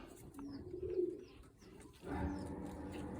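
A white pigeon and a dark hen pigeon coo close by, a soft low throaty burble in two short phrases separated by a brief pause, quiet and alone.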